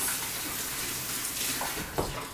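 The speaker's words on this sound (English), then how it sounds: "I'm going to do a little quick rinse to the hands" Tap water runs steadily as hands get a quick rinse at a kitchen sink, a soft continuous hiss and splash with a small burst near the end, heard alone with no talking.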